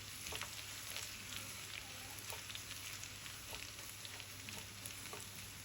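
Onion and ginger tadka sizzling in hot oil for Pakistani maash daal, a steady close crackle and hiss with scattered small pops, no voices.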